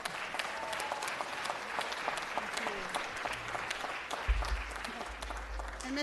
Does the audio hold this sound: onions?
no